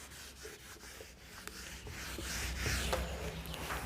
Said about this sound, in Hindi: तो मैं इसको रब कर रही हूँ।